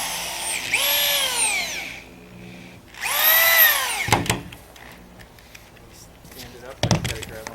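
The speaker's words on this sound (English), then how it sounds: "Then attach both studs to the top side of the deck plywood using 1-inch screws." A power drill drives 1-inch screws into halfpipe deck plywood in two whining bursts that spin up and wind down, close and loud, followed by knocks and handling sounds.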